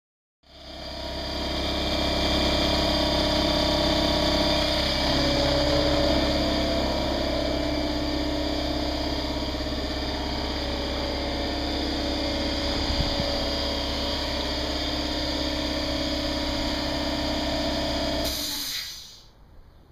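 A car engine running with open headers at its first idle, a steady loud rumble with continuous hiss that holds for about eighteen seconds before cutting off abruptly.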